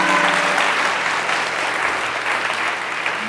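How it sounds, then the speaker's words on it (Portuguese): A church congregation applauds, dense sustained clapping filling the whole stretch at steady, fairly loud level with no voice on top. "Você pode aplaudir Jesus?"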